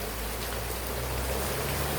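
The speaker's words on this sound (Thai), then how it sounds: "ฝนมาพอดีเลย ได้น้ำฝนฮดจ้ะพี่น้อง ได้น้ำฝนฮดพอดี" Rain falling in a rural Thai village, a dense, even hiss of steady rainfall with a faint low rumble beneath, constant throughout and without talk.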